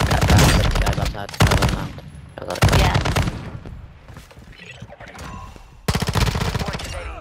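Gunfire in Call of Duty: Modern Warfare II, loud bursts of rapid automatic fire and volleys coming in waves, with quieter gaps of distant shots and game ambience between them.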